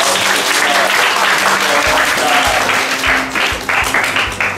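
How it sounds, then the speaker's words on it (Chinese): An audience at a tuition centre event claps together in sustained, dense applause that holds steady for several seconds before thinning slightly toward the end. "来，鼓掌，没有鼓掌啦。"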